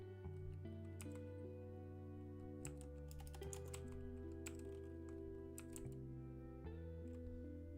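Fingers type on a Korean computer keyboard, quiet irregular key clicks tapping along over a steady tonal background hum.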